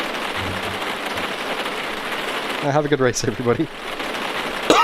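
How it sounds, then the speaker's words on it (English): Steady rain drumming on a race car in the Automobilista 2 racing game at Monza, a dense, loud hiss with the engine silent, with a voice talking over it partway through. "that rain sounds loud without the engine going"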